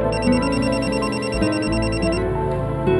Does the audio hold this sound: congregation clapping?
no